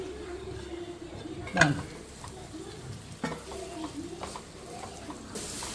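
Chopped beans and carrots tossed into hot oil in a pan for vegetable pulao, giving a soft steady sizzle with a couple of sharp scraping stirs of a spoon against the pan, close by.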